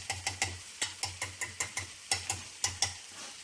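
Spices and vegetables sauté in a little oil for bisibele bath, heard as a rapid, regular run of utensil stirring strokes against the pan over a soft sizzle, close and unaccompanied by speech.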